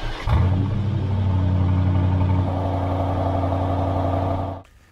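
An Aston Martin DBX fires up with a quick crank and a loud initial rev that settles into a steady, moderately loud idle hum before the engine is shut off.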